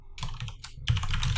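Fingers tap quickly on a computer keyboard, a close, busy clatter of keystrokes running the whole time at moderate volume, with no one speaking.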